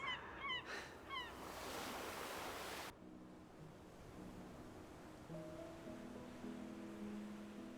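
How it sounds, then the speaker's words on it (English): Seagulls cry out in a few quick honking calls at a windy seaside, over loud rushing surf that cuts off abruptly to quieter ambience with soft music. "And the bloody seagulls."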